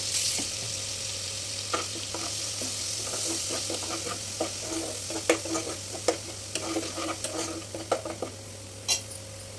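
Ground onion paste sizzles and fries in hot oil for a meal maker gravy curry, with a utensil steadily stirring and scraping the pan. The irregular clicks and scrapes sit over a constant hiss, close up and with no talking.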